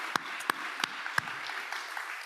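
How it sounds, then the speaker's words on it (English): A few scattered, sparse claps from a small audience after presenters at an urban climate and AI event, quiet and irregular, with isolated sharp hand claps rather than full applause. "let's give both of our presenters a round of applause"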